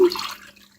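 Water poured into a measuring cup while making date jam, a brief close splash and trickle that fades quickly.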